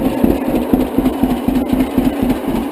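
A 1942 John Deere Model A tractor engine idles with a steady, loping putter, regular low thumps repeating about three times a second, close and fairly loud, with no talking.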